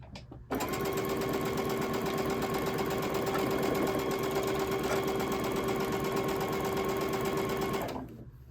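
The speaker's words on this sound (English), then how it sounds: "I'm ready to sew." A sewing machine stitches a signature quilt block, starting abruptly and running at a steady, fast, even hum for about seven seconds before winding down. It is close and loud, with no voices.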